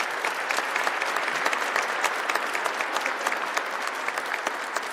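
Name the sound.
audience applause at ceremony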